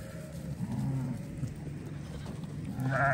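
Sheep and their lambs bleat in short bursts over a windy outdoor background, with a higher-pitched bleat near the end, like a lamb calling.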